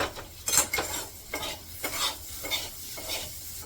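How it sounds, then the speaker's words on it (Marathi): A spoon stirs potato curry with fresh coriander in a pan, making rhythmic scraping strokes about every half second over a soft sizzle. "कोथिंबीर टाकून मिक्स करून घेते सगळं."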